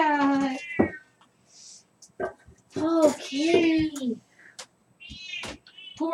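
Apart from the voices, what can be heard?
cat meowing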